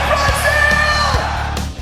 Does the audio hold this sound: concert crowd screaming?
yes